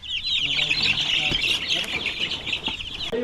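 Australorp chicks chirp in a steady, busy high-pitched chorus, close and continuous, with a few soft low clunks and faint background noise underneath.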